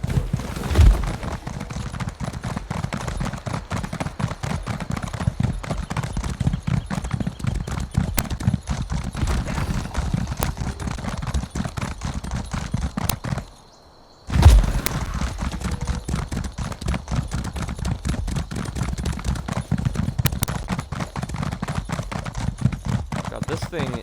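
Rapid, steady hoofbeats of a galloping horse in the video game Elder Scrolls Online run continuously, with a brief drop-out midway before the pounding rhythm resumes.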